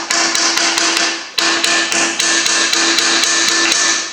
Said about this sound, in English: just a gentle little tap on the end here